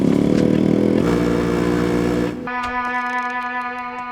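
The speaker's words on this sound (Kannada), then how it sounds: "ಬೈಕ್ ಯಾಕೆ ತಗೊಂಡೋಗ್ತಿದ್ಯಾ?" A motorcycle engine roars loudly nearby in a crime thriller film scene, then the rumble drops away as the bike is ridden off, leaving steady tonal sounds behind.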